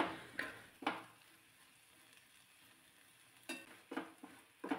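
Masala gravy is sautéed in oil in a pan for a small-potato dish, with a soft, faint sizzle broken by a few sharp scraping stirs at the start and several more near the end.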